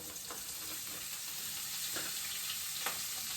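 Garlic and scallions (green onions) frying over medium heat in a pan, giving a steady, fairly faint sizzle with a few soft crackles, no talking.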